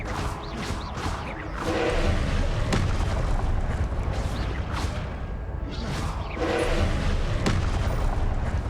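Confringo fire spell bursts in Hogwarts Legacy, a run of booming blasts with whooshing swells repeating across the stretch, loud and dense over game background.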